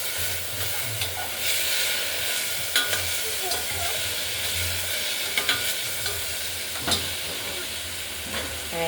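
Washed mung dal is stirred and fried in a pan, giving a steady sizzling hiss with repeated spoon scrapes and light clinks against the pan. A low rumble runs underneath, and there is no speech.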